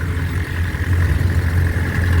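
A Unimog's engine idles at a vintage vehicle fair, a close, steady low rumble with a faint clattering edge, holding even and loud for the whole short stretch.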